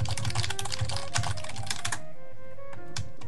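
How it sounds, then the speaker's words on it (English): Rapid typing on a computer keyboard during a Minecraft UHC pre-game, a dense clatter of close keystrokes for about two seconds before it stops, leaving a quieter tonal background. "that was some great typing"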